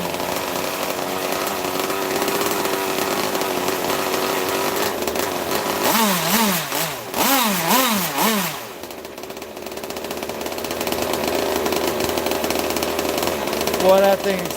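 A 26cc gas engine runs loud and close, idling with a buzzing drone, then revving up and down in several quick rising-and-falling bursts before settling back to a steady idle with a brief rev at the end.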